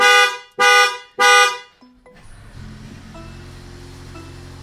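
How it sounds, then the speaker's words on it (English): Three loud, blaring honks of a Mercedes-Benz CLA 250 car alarm in quick succession, then the engine starting and settling into a steady idle hum, silencing the alarm. "once the vehicle starts, the alarm will turn off"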